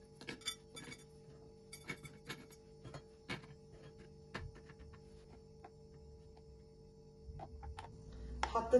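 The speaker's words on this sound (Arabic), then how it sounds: "بحط بالصينية بسكوت" Biscuits being laid into a metal dessert tray, giving light clinks and taps spread irregularly across several seconds, close and quiet, with a soft rustle building near the end.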